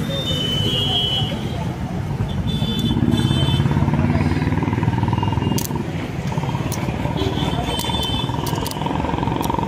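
A motorcycle goes by on a road: a loud, rough engine drone swells through the middle and holds on, with high buzzing and clattering over it.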